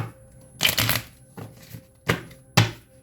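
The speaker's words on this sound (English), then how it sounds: "I'm going to shuffle this up." Tarot cards shuffled by hand in four quick riffling bursts, close and crisp, separated by short pauses.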